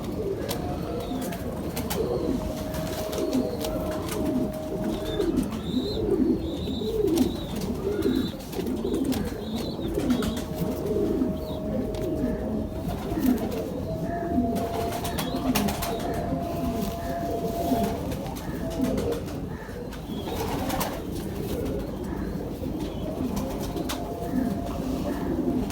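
Pigeons coo steadily through a loft, with repeated soft throaty calls overlapping in a continuous, fairly close chorus and occasional faint chirps in the background.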